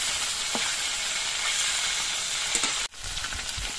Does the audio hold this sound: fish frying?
yes